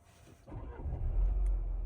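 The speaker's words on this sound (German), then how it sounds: "Und dann startet der Motor." A Mercedes-Benz GLA / A-Class engine starts, a low rumble rising after a quiet moment inside the cabin and settling into a steady idle, heard alone without talk.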